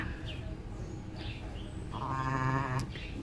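A lamb bleats briefly in the middle distance during tail banding with a rubber band, a short wavering cry over quiet background noise at low level.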